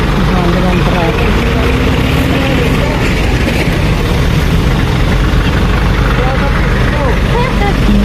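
Heavy road traffic drones loudly and continuously nearby on a jammed highway, with deep engine rumble and idling vehicles filling the whole stretch.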